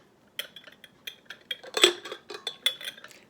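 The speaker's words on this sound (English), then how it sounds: "And put the lid on." A lid set onto a coffee pot on a wood stove, with a short cluster of close metallic clinks and scrapes and one brighter ring as it seats, fairly quiet and without talking.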